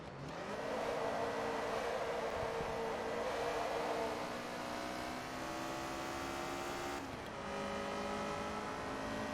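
Racing car engine in Forza Motorsport 2 during a semi-pro Sparco 200HP Invitational race: a loud, raspy, sustained engine note that climbs steadily through the revs, drops at a gear change, then climbs again, with no talk.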